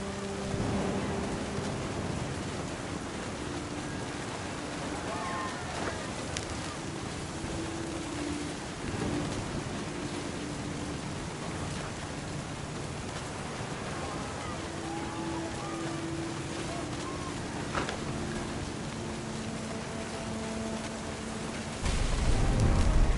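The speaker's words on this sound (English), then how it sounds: "The thunder sounded much too close and full of angry power." Thunder and rain in the game What Remains of Edith Finch, a steady wash of rainfall with low rumbles rolling through and a heavier surge of noise at the end, no voices.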